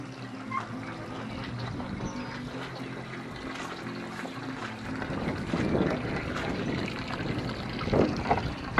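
A Harbor Freight aquaponics water pump runs steadily with a low hum and a continuous wash of moving water, growing slightly louder and more turbulent toward the end, with no talk.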